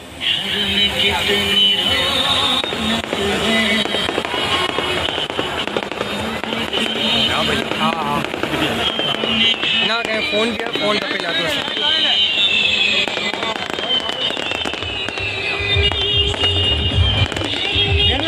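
Fireworks crackle and pop continuously in a dense, noisy barrage at a mass wedding mehndi night, while people talk and shout throughout.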